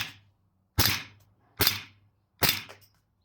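Three sharp, loud reports from a VFC FNX45 airsoft pistol, evenly spaced about a second apart, each snapping cleanly with a quick decay and a faint low hum beneath.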